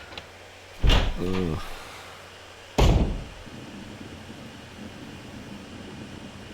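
Heavy door in the Resident Evil video game opening with a loud thud and creak, then shutting with a second hard thump about two seconds later, followed by quiet ambient hum; a brief spoken grunt occurs in between.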